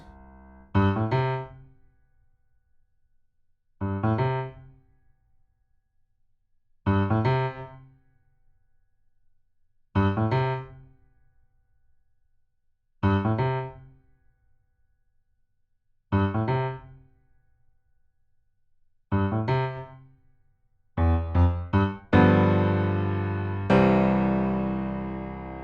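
Piano plays the bridge of a song in a slow pattern of evenly spaced chords, each struck and left to ring into silence, ending with quicker notes and a fuller sustained chord.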